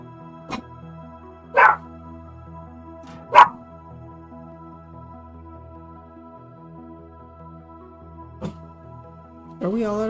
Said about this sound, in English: Please do not bark.